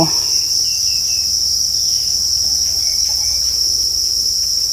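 Crickets on an insect farm chirp in a dense, steady high-pitched drone, loud and continuous with no voices over it.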